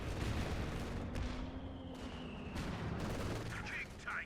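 Tank cannon fire and battle noise from the game Company of Heroes 2, with a few sharp blasts and rumbling booms over steady combat din, loud and close.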